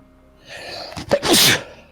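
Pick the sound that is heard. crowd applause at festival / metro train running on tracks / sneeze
sneeze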